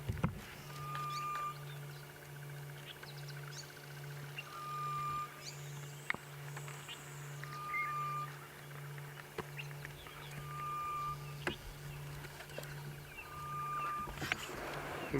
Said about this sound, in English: listen to that bird calling